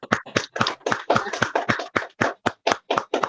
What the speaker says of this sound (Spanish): Un aplauso para nuestro expositor.